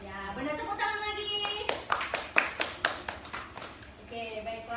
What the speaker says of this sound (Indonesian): Ya, benar, tepuk tangan lagi.